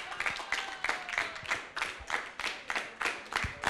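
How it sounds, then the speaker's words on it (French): An audience claps in a steady, rhythmic beat for a troupe of actors from Port-Bouët at a youth stage event, the hand claps close, crisp and evenly spaced throughout. "Est-ce qu'on peut raccompagner, s'il vous plaît, les acteurs de Port-Boué avec des applaudissements bien nourris"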